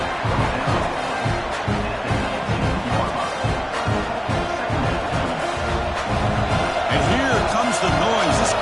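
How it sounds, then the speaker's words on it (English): A large stadium crowd at a Canadian football game roars steadily throughout, a dense loud wash of cheering and noise with a commentator talking over it. "The noise. This crowd is trying to inspire this defense to make a big red zone stop."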